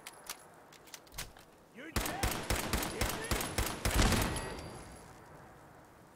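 Rapid bursts of gunfire aimed at a turret in the virtual reality game Fallout 4 VR, a dense clattering volley of loud shots over about three seconds after a few scattered single shots, with a voice briefly heard.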